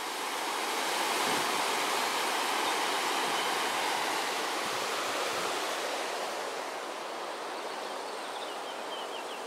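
The Cetina river rushes steadily near Omiš on its way to the sea, a continuous, fairly soft broadband roar of flowing water with no voices.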